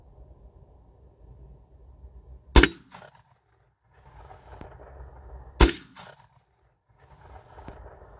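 Two sharp, loud gunshots from a firearm at an outdoor shooting session, spaced about three seconds apart, each with a short echoing tail over quiet background rustle.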